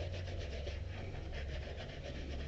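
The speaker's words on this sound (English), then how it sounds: "using my canvas here, I'm just gonna do some light burnishing on each of these little sections until they look nice and burnished." Canvas rubs against a leather edge in steady, soft back-and-forth strokes, a close, even scratchy rasp while burnishing small sections of a leather doctor's bag.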